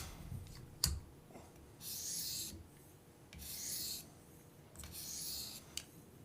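The stone of a KME knife sharpener rubs along a knife edge under light pressure, three slow, even rasping strokes separated by pauses, close and quiet, with a few small clicks between them.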